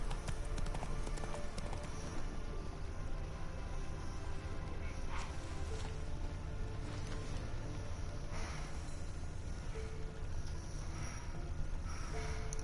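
Roach the horse gallops in The Witcher 3 game, hooves clip-clopping in a steady rhythm under dense game ambience and music, loud and continuous throughout.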